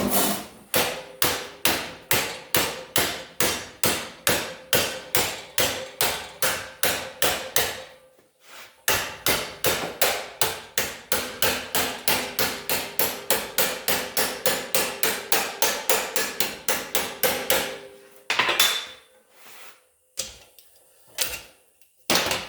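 Hammer blows ring out on metal as a battery tray is bent over angle iron clamped to an I-beam, a steady fast run of loud strikes with one brief pause partway, then a few scattered hits at the end.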